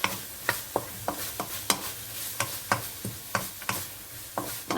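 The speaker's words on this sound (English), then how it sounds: "so you just saute them together" Chopped onion sautes in a pot as the base of a vegetable soup, giving a soft sizzle broken by repeated scraping stirs that come at a fairly regular pace, close by and with no voices.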